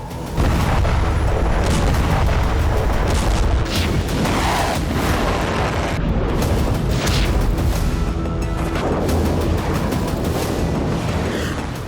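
Missile strikes in the Iran–Israel conflict, aimed at Tel Aviv, set off loud booming explosions over a dense roaring din, several blasts rising out of continuous rumble across the stretch, with no clear talk.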